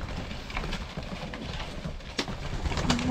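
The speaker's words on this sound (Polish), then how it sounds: "Gołębie pocztowe." Homing pigeons coo softly amid a dense, rustling background of wings and movement as they feed, with occasional sharper taps and no talking.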